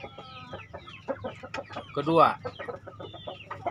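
Brooding hens in a group of breeding stock cluck softly in a close, busy run, with one louder squawk standing out midway while someone talks over the sounds.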